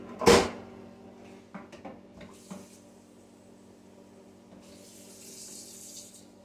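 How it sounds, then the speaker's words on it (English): Water is poured down the drain hole of a Frigidaire side-by-side refrigerator: a sharp splash and knock at the start, then a few clunks and a faint, steady trickle of draining water close by, with no talk. "Pour some water down it, and then watch it drain."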